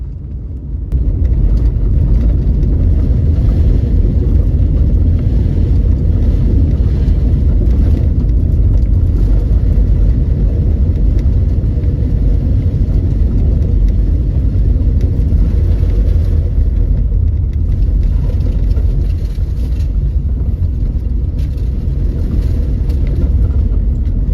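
A car drives steadily along a country road, its engine and tire noise forming a continuous close low rumble that holds for the whole stretch with no voices.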